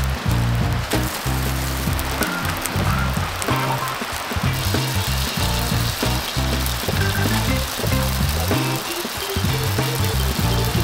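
Rain falls on a campsite partway up a mountain wrapped in cloud, a dense, loud, continuous patter and hiss with steady low rumbling underneath.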